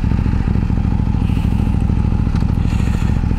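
A KTM 890 Duke R motorcycle rides over a bumpy road, its engine a loud, steady, close rumble with a rapid pulsing beat, overlaid by rattling and scraping from the rough surface, with no talk.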